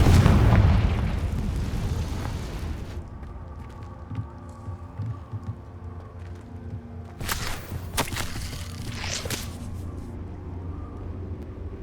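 A Confringo fire spell blasts in the Hogwarts Legacy video game, a loud booming explosion with a rumbling tail, followed by lingering hum and a second burst of crackling debris.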